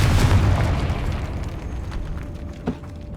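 In Hogwarts Legacy, the Confringo spell goes off as a loud, close explosive boom that rumbles and decays over a few seconds inside a tomb, with a small pop near the end.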